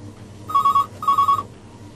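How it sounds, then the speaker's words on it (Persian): A telephone rings twice in quick succession, each ring a short electronic trill, close and clear in a quiet room. "تلفن"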